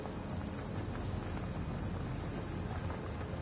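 Rain and thunder from the video game Divinity Original Sin: a steady dense hiss of rainfall with a low continuous rumble underneath, even and unbroken throughout.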